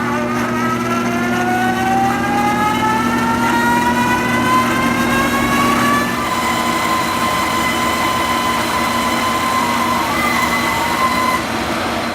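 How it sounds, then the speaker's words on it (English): A pinewood derby car runs on a treadmill, giving a steady mechanical whir with rising whining tones that hold continuous and fairly loud throughout, no talking over it. "Then we'll put it back on the treadmill and see what happens."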